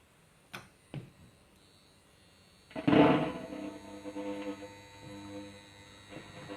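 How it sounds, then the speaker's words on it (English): A tattoo machine switches on against a drum. A few soft taps come first, then a sudden loud burst settles into a steady, buzzing electric hum that carries on to the end. "And if I put the tattoo machine on this,"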